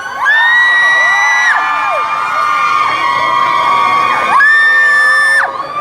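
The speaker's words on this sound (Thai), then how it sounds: "ขอเสียงกรี๊ดดังๆ" Loud crowd screaming and cheering at a THAIFEX 2017 trade fair booth, a sustained wall of shrill shouts and whoops that carries on without a break.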